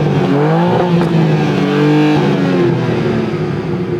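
A BMW M2 with no soft limiter revs hard, its pitch sweeping up, dropping and rising again over about four seconds. The engine sound is loud and close and runs steadily throughout.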